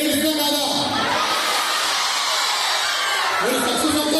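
Children cheering and whooping in a large group, a loud continuous wave of high shouts that swells near the start and again toward the end.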